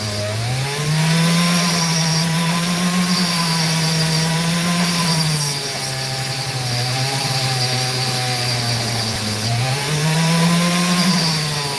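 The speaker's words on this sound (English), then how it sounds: "Probably going to grind off that entire section." A power grinder cuts steadily through a section of opal, running loud and close with a continuous whine that rises and dips in pitch as the load changes, without any talk.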